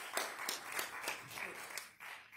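A church congregation at City Limits claps together in a quick, steady rhythm, sounding faint and somewhat distant in a large room.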